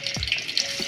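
Finely chopped tomatoes frying in a pan for an outdoor chicken dish, a steady hiss and crackle with a couple of soft thumps from stirring.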